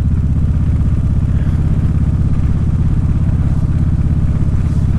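A motorcycle on a short ride along a wet road gives a steady, loud, low engine drone with a pulsing rumble and a faint wind hiss throughout, with no talk.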